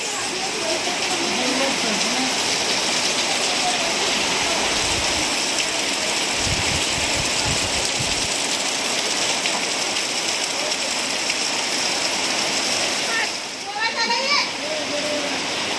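Steady rain hissing throughout, close and loud, with voices talking over it and a brief burst of louder activity near the end.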